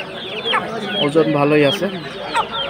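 A large hen, a Tiger breed chicken, clucks and squawks while held by hand at a poultry market, several sharp calls close by under a man's speech.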